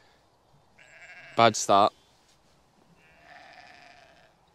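Sheep bleat during lambing beside a newborn lamb, one loud close bleat in the middle and a fainter drawn-out bleat later, with a person speaking briefly.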